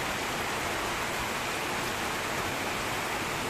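Heavy rain pours down steadily on roofs during flooding, a dense, loud and unbroken hiss with no break or talking.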